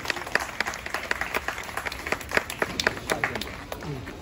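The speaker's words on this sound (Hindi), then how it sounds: "जी हाँ, तालियां जरूर होनी चाहिए," Audience applause at a Hariyali Teej celebration, with sustained clapping from a crowd and a few louder individual claps standing out, running steadily throughout.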